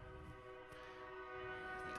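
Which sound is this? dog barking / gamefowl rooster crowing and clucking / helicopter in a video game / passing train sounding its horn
passing train sounding its horn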